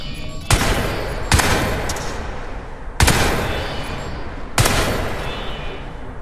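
Rapid gunfire from the video game Crysis 3, sounding as four sharp, loud bursts at uneven intervals, each trailing into a long, rumbling echo with no talk.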